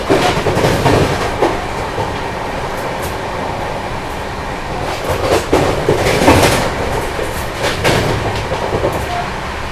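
An express train runs through the night past Khalilabad station on the New Delhi–Darbhanga Bihar Sampark Kranti route, a steady loud rumble with clattering wheels and recurring sharp clacks close by, no talking.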